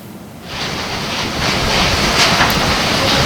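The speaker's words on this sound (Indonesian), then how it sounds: "Detik-detik pohon tumbang terekam kamera warga saat hujan deras disertai angin kencang terjadi di wilayah Weleri, Kendal." Heavy rain and strong wind during a storm in Weleri, Kendal, a dense, steady roar of broadband noise that swells and grows louder after the first half second, with no voices.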